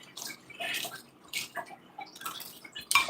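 Water trickling and splashing in a garden water feature, uneven bursts of dripping and pouring that rise and fall close by, with no voices.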